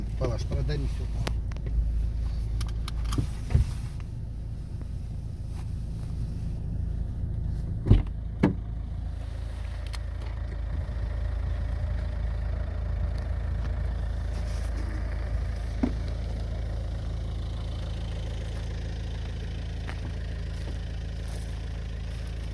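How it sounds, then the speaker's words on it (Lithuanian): A car engine idles steadily as a low rumble from inside the vehicle on a mountain serpentine road, with a few knocks and clicks and people talking now and then. "Išjung gal variklį."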